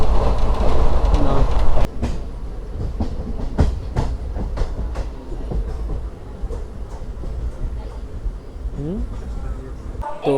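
The 16116 Puducherry Express runs from Puducherry toward Chennai: a loud rush for the first two seconds gives way to a steadier rumble with repeated clickety-clack knocks of wheels over rail joints.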